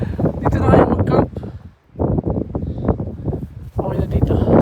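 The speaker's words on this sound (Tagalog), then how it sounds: "Lakas ng hangin oh." Strong, cold wind at a mountain campsite on Pump Peak, Mount Seymour, roars and buffets the microphone in loud, uneven gusts, with people talking through it.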